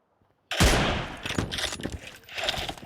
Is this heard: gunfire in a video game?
yes